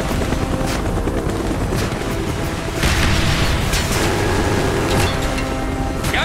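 Mi-24 attack helicopter in Call of Duty Black Ops, its rotor and engine roaring loud and continuous, mixed with booming gunfire and battle noise throughout.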